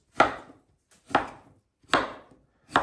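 A knife slices through an avocado on a cutting board in four crisp, evenly spaced chops, each a sharp close strike that fades quickly, with no talking.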